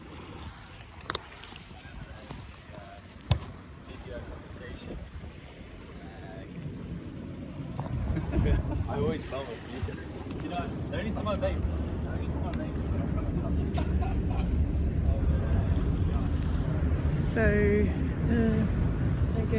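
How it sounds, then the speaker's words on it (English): A Thames river passenger ferry engine drones as it passes, growing louder and steadier toward the end, with a brief spoken word at the start and broadband outdoor noise. "there goes the Uber boat"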